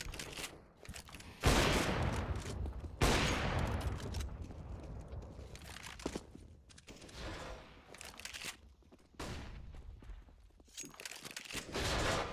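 Loud Mag-7 shotgun blasts and other gunfire crack in a CS:GO esports match, a few heavy shots spread out over steady in-game noise and footsteps.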